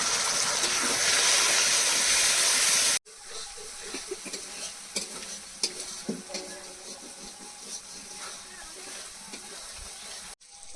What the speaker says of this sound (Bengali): সামান্য জল দিয়ে ভালো করে কষিয়ে নেব